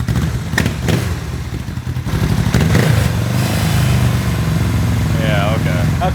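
A Honda CB450 motorcycle engine runs close by, idling with a clattery pulse and then revving up to a sustained higher pitch, with people talking over it.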